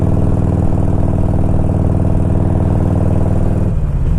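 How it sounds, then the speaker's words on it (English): A 1992 Harley-Davidson Electra Glide Sport with its Evo engine idles steadily and loudly up close, a deep continuous rumble with a slight shift in tone near the end. "I'm pretty sure that this is the Evo motor."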